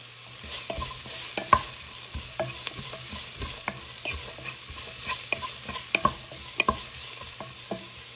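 Onions with a little salt fry in a pan, a bright continuous sizzle broken by frequent spatula taps and scrapes as they are stirred, close and fairly loud.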